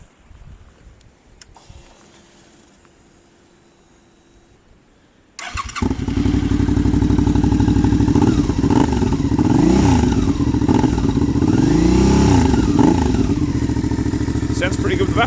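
Suzuki V-Strom 650 with a Black Widow exhaust and its baffle fitted, heard starting up after a quiet stretch, then idling steadily and loudly close by with a few revs.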